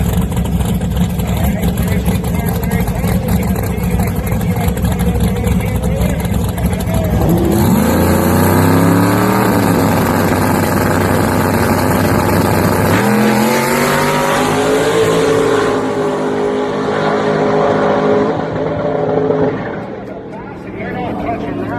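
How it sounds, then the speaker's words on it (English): Loud race car engines roar through a pass at a racing event, a blue car among them, with rising revs around the middle and a fade near the end; people talk throughout. "And then we got one more pass, a John Legato and a blue car."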